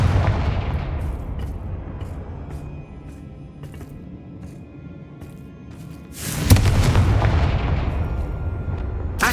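Confringo blasting spell in the Hogwarts Legacy video game, a booming explosion with a deep rumbling tail, preceded by a fading roar from an earlier blast and ending with a second loud burst near the close.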